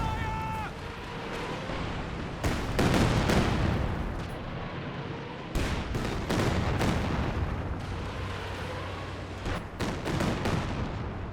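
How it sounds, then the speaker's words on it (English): Soviet Katyusha rocket artillery pounds away in Company of Heroes 2, a dense barrage of repeated loud booms and crackling blasts rolling over several seconds, with game sounds layered under commentary. "Katyusha ready to fire once more. And for a close range barrage on this squad."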